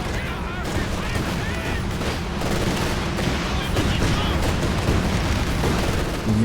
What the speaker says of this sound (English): Next, this barrage coming in.